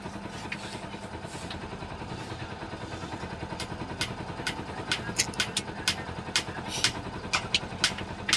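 A motorcycle engine runs at idle with a low, steady rumble and a light mechanical clatter, heard at moderate distance and growing slightly choppier toward the end.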